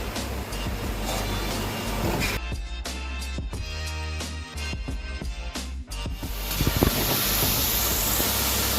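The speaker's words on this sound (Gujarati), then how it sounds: "હવે આપણે એને ફાસ્ટ ફ્લેમ પર ફ્રાય કરીશું." French fries deep frying in hot oil over a high flame, a continuous hiss and bubbling sizzle with crackly spatter, steady and close, swelling louder toward the end.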